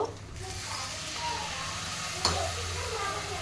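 Water poured onto turmeric, coriander and cumin powder in a hot pan gives a steady soft sizzle and hiss, close and fairly quiet, with stirring scrapes and a brief clink partway through.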